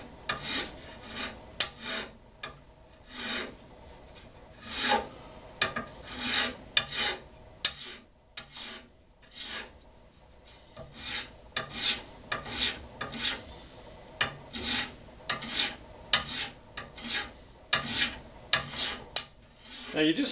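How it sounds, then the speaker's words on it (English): A metal file rasps back and forth over a mother-of-pearl shark inlay set into a guitar fretboard, steady rhythmic strokes close up with brief pauses, no voices. "one side of the file was getting clogged with pearl dust and wasn't cutting well anymore"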